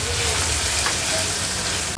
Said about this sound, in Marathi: हे जे आलं, लसूण, मिरचीचा क्रश आपण चेचून घेतलाय तो ॲड करूया। गॅसची फ्लेम लो करून हे आपल्याला शिजवून घ्यायचंय।